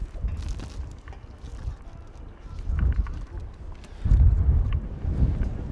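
Gusty wind buffeting an outdoor microphone at a rugby union match, low rumbling bursts rising and falling throughout and swelling strongly near the end, with faint crowd noise beneath.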